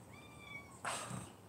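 A cat cries from under a house, a faint drawn-out meow followed by a louder, rougher yowl, heard alone in a quiet outdoor setting.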